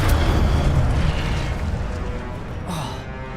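A Incendio fire spell bursts in the wizarding game Hogwarts Legacy, a loud roaring whoosh of flame that fills the moment and slowly fades, with a brief flare near the end.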